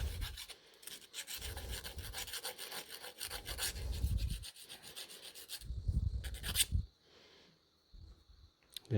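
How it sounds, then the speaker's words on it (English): A hand file rasps across the freshly ground end of a piston ring for a supercharged 392 Hemi build, in close, repeated short strokes with brief pauses, the final strokes lighter and quieter. "just take your file or a piece of fine sandpaper, just lightly deburr it where you grinded it"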